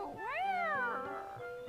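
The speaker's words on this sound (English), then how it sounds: "That sounded like a meow more than a quack!" A meow-like creature call from a Chocobo in the video game World of Final Fantasy, a single rising then falling tonal cry with clear harmonics, close and alone, followed by a short softer trailing sound.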